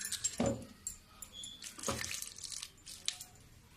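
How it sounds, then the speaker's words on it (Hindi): A spoonful of water poured into dal batter for dahi bhalla, heard as a couple of brief, soft splashes and trickles close by in a quiet kitchen, with no talking. "देखो मैं 1 चम्मच पानी इसमें डाल दी हूँ।"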